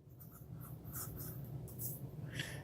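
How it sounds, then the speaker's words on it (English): A Platinum 3776 fountain pen with a broad nib scratches softly across paper in short, faint strokes, close and quiet with no voices. "I enjoy writing with this nib"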